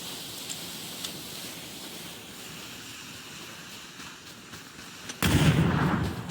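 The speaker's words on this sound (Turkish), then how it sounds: "Geldi bile bomba." A bomb blast in the PUBG battle game, a sudden loud, broad burst of noise after a stretch of low wind-like rumble and faint distant thuds.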